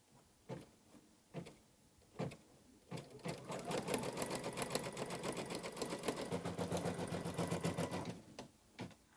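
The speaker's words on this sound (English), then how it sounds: "the next stitch is going to be the tack down stitch to hold this in place" A sewing machine sews a tack-down stitch on quilt fabric, with a few single clicks leading into a quick, even run of stitching that lasts several seconds before slowing back to isolated taps, close and fairly quiet.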